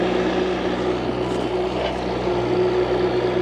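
A gas-powered earth auger drills into the ground, a steady loud engine drone with a constant tonal hum and slight load variations as it bores the hole.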